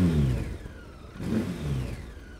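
A heavy Chinese touring motorcycle of just over 200 kg, fitted with luggage cases, revs at a motor fair in Belgrade, two deep throaty surges of the engine rising and falling close by.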